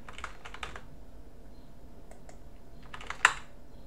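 Someone types a password on a computer keyboard set to a French layout, producing quick, light key clicks in small bursts with pauses, close by in a quiet room and ending with a sharper final keystroke.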